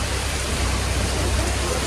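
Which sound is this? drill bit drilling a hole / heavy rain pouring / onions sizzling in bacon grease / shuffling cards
heavy rain pouring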